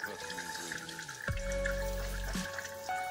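Water pours out of a container in one steady gush lasting about a second, then stops, with other household noise around it.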